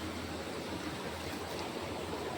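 A coastal Konkan stream flows steadily, a dense, even wash of rushing water with no pauses, close and moderately loud.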